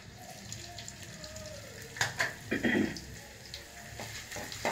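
Chopped ginger frying in oil in a pan while making an egg dish, with a quiet steady sizzle and a few brief louder crackles and stirring bursts midway.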